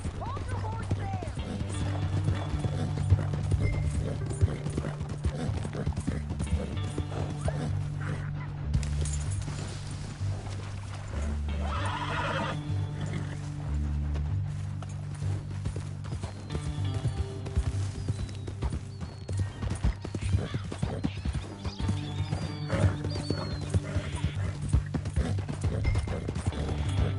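A horse's hooves clip-clop in a steady rhythm in Red Dead Redemption 2 on PS5, running continuously beneath characters' dialogue, with occasional animal calls mixed in.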